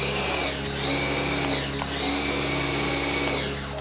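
A Bosch Easy Aquatak 110 electric pressure washer runs steadily and loudly, its motor giving a constant close whine with a brief dip near the middle and no talk.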